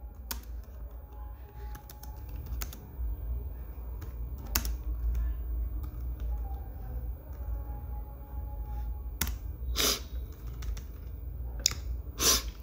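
Typing on a computer keyboard, scattered key clicks and a few louder bursts of taps over quiet room hum, close and without speech.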